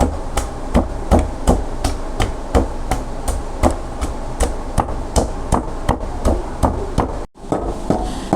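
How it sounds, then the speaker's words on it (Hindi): Steady, regular thuds of a pestle pounding garlic in a mortar, close and loud, about two strikes per second with a brief pause near the end. "ये लहसुन भी इसमें ऐड कर देते हैं और इसको अच्छे तरीके से कूट लेते हैं"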